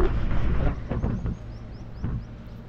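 Vehicles rush past on a highway on a hot morning, a rumbling wash of traffic with a couple of swelling passes that fade, steady low road noise underneath.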